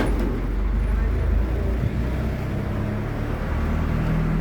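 Cars driving right up to a doorstep, a low rumbling engine and road noise close by, with people talking over it.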